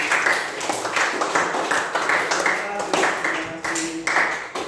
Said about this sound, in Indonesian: kita beri tepuk tangan sekali lagi untuk Alfa